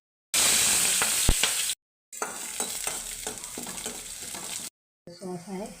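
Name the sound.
frying and stirring gobi manchurian cauliflower in a pan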